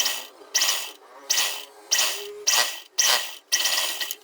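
A sewing machine stitches a folded fabric hem on a kurti sleeve in short, even mechanical bursts about twice a second, close and rattling, with brief gaps between runs and no speech.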